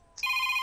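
A phone ringtone starts abruptly after a brief near-silence, a bright electronic tone held steadily and loud at close range.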